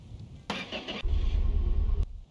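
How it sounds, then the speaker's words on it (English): A truck engine on a garage move turns over and then settles into a rough, low rumbling idle, preceded by a short burst of clattering, near and fairly loud. "Did you hear the engine?"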